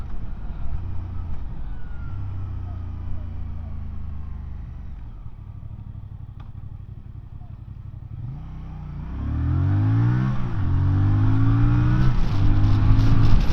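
A Voge R625 motorcycle rides behind a garbage truck, its engine humming steadily at low revs, then opens up and accelerates hard past it, the exhaust note climbing through several rising gear pulls and growing louder.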